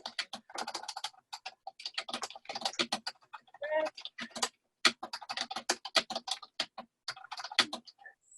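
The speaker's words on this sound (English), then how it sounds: "someone has the sound on and it's typing, can you please mute?" Rapid clicking of computer keyboard keys in irregular bursts with brief pauses, close and fairly quiet, no voices.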